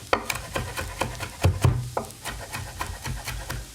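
Crispy bacon chopped finely with a knife on a wooden board: quick uneven taps and scraping rubs, close and fairly loud, with no voices.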